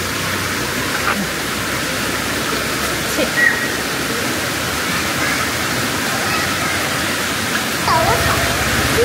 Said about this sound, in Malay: Bunyi air sungai.